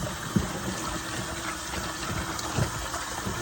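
Water running steadily over freshly caught catfish being rinsed outdoors, a faint continuous hiss and splash with a couple of soft knocks.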